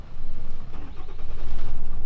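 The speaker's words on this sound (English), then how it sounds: "wiggle the switch, then the truck will start" Ram truck engine cranks and catches after the ignition switch is wiggled, a loud rough rumble with rhythmic pulsing that builds over two seconds, alone without voices.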